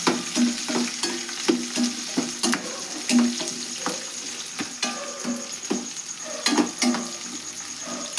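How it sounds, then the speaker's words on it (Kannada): Chopped onions frying in oil while being stirred, a continuous sizzle broken by repeated scraping strokes of a utensil against the pan at a fairly regular rhythm, close and clear with no talking. "ಉಳ್ಳಾಗಡ್ಡೆ ಹಾಕೋತೇನೆ ನೋಡ್ರಿ. ನಾನು ಇವನ್ನ ಎಣ್ಣೆ ಒಳಗೆ ಫ್ರೈ ಮಾಡೋಣ್ರಿ"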